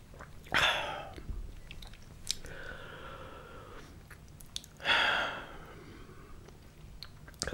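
Chewing of Domino's pepperoni pizza with two bursts of crunchy bites and moist mastication close to the mic, separated by quieter chewing in a hushed setting.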